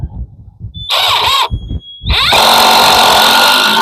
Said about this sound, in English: Especially when you're doing a lot of drilling,